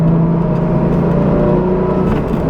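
Porsche Cayman S 981 engine pulling hard under acceleration, a loud continuous droning growl heard steadily throughout from inside the car, with no talking.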